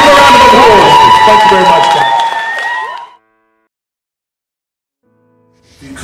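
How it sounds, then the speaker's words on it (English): Audience applause and cheering, a dense crowd sound with whistles or shouts, loud at the start, fading out by about three seconds, then silence before a faint sound returns at the end. "give them a round of applause"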